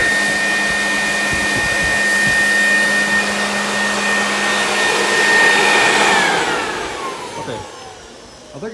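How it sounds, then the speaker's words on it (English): An electric motor on a homemade pond aerator blows air with a steady loud whirring hum and whine that holds level for most of the stretch, then its pitch slides down as it winds off near the end. "That motor might be straining just a little bit."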